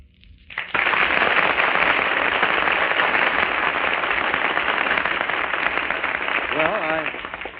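A 1938 NBC radio studio audience breaks into loud, continuous clapping after a short quiet lead-in, holding steady for several seconds, with a brief voice surfacing near the end.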